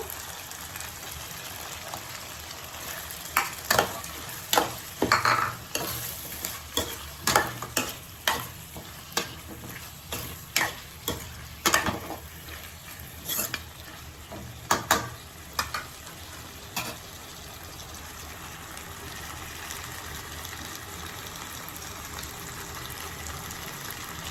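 Chopped tomatoes sizzling in a pan for a homemade chicken curry, with a steady frying hiss throughout and a series of close scraping stirs in irregular bursts that fade out toward the end.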